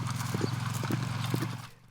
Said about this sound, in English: to drive the horses in from their overnight pasture